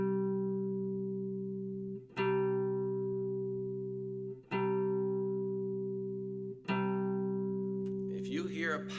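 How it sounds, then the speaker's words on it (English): An electric guitar strikes a fifth-interval power chord four times, each left to ring and decay for about two seconds, loud and close, with a voice beginning to speak at the very end. "If you hear a power chord, the basic chord of rock music, power chord, then you're right."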